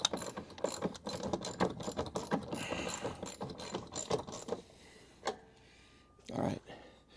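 A hand ratchet clicks in quick bursts while tightening a bolt on a Charger crew cab car, close and crisp, with someone speaking over the work and a couple of separate knocks near the end.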